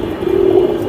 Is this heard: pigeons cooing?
yes